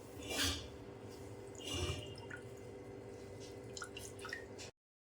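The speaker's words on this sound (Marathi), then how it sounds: "ह्याच्यातलं आपण सगळं हे पूर्णपणे पाणी काढून घ्यायचं. हे पूर्णपणे असं पिळून घ्यायचं आहे." Curdled milk solids are squeezed by hand, and water trickles and drips from them in quiet, close splashes and small squishes. The sound stops abruptly near the end, and there is no speech.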